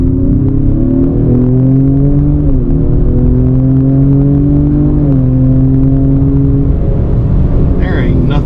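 A 2025 Ford Explorer ST twin-turbo V6 pulls hard in sport mode, its engine note rising in steady harmonic sweeps with brief shift dips, loud and close from inside the cabin, with a voice coming in near the end.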